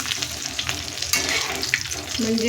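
Alu vadi, colocasia leaf rolls coated in besan, frying in hot oil. The sizzle is steady and close, with stirring scrapes and clinks over it and a faint voice near the end.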